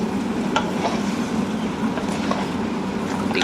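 Crab and string beans simmer in coconut milk while being stirred, giving a steady close bubbling sizzle with soft scraping pulses from the stirring and no talking.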